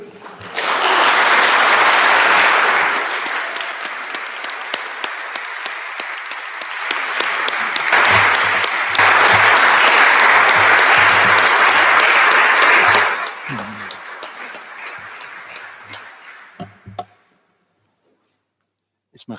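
An audience applauds warmly after a talk on healing community, a loud, sustained burst of clapping that swells midway and then thins out to scattered claps and silence.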